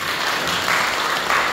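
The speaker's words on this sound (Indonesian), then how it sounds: "tepuk tangan buat Tuhan" A church congregation at Sunday worship claps briefly together, a dense, loud burst of applause that swells slightly toward the end with no voices over it.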